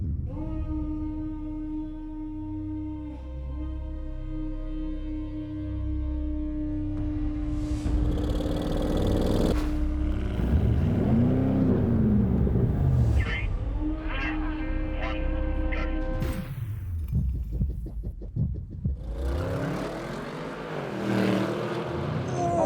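An Audi RS7 and a BMW M850i sit at a steady idle, then launch in a drag race with a loud roar. The engine note rises and falls through brutal gear shifts.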